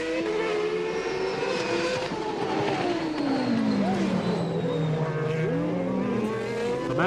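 A 1994 Lotus Formula 1 car blows its engine mid-race amid a loud, continuous roar of racing engines whose pitch sweeps down and back up, with a commentator talking over the din.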